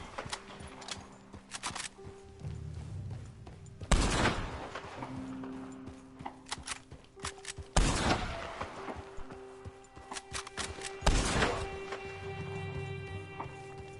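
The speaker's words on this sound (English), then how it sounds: "Trying to shoot the lock." Gunfire aimed at a lock in the video game Red Dead Redemption 2: three loud, sharp shots spaced a few seconds apart, each ringing out over a busy game backdrop of hoofbeats and ambient sound.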